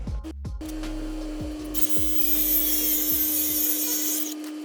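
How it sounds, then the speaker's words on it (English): A metal cutting tool chops the threads off a Vibrant 45-degree fitting for a BMW E46 turbo oil drain, a loud close whine with a sustained tonal hum and a harsh grinding hiss through the middle, ending abruptly. "chop the threads off of the Vibrant fitting, this 45 here"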